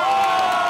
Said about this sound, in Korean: 열렬한 환호 속의 경기가 시작됐다.